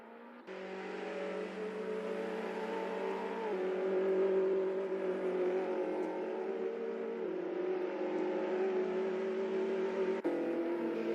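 Race cars in Assetto Corsa at a racing league event, one car leaving the pits on medium tyres: a steady, loud engine drone with sustained tonal whine and shifting pitch runs throughout, with no talk.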